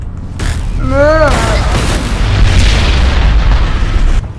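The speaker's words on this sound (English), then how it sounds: "I forgot he's gonna explode." Loud, close explosion in the video game Fallout: New Vegas Dead Money, a sustained booming rumble lasting several seconds with a brief vocal-like wail near the start.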